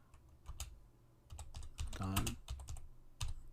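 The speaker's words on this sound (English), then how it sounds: "So let's type what we need." Typing on a computer keyboard to enter a software tool name, with irregular bursts of clicking keystrokes close by and a short quicker run in the middle, no voices.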